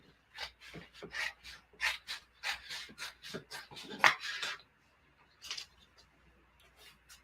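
Scissors snipping through material at a craft table, a quick run of close, crisp rasping cuts followed by a few fainter scattered snips and quiet pauses.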